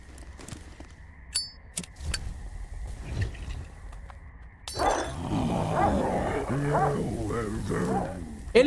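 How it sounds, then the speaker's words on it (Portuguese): Dogs growl and attack in the video game Blood West, with snarling and bestial roars filling the second half after a quieter stretch of scattered game sounds, while someone talks over the action. "Olha lá o cachorro, cara."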